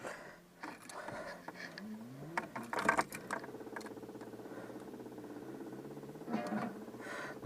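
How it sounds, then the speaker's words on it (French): A Peugeot 309 diesel's fuel pump runs during preheating, a faint steady mechanical whirring and ticking that continues for several seconds, with a few louder clicks and knocks. "Donc là vous entendez la pompe"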